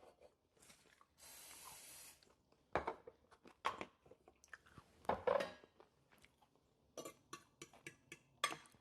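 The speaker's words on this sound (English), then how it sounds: "I'm gonna spray it again." A can of cooking spray used while making French toast releases a short, airy hiss, surrounded by faint kitchen clatter, scattered clicks and small taps.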